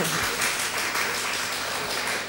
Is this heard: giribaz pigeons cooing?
no